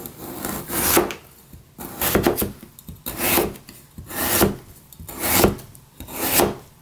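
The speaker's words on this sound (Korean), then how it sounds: "그러니까 조금 굵게 채썰게요." A knife cuts radish into thick julienne strips for bossam radish kimchi, about six separate rhythmic slicing strokes on a wooden board, close and crisp, each about a second apart.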